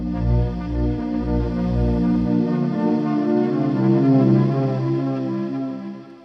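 Serum 2 keys patch with the Organics Shush 2 breath-noise macro raised louder, a sustained synth chord with a hissy airy layer over it, held steady and fairly loud throughout.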